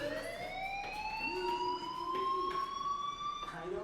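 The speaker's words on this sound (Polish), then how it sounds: "do you hear that fire alarm? That means you should be outside." A fire alarm wails steadily in the game Life is Strange, a continuous rising electronic tone with harmonics sounding throughout, with faint background game noise beneath it.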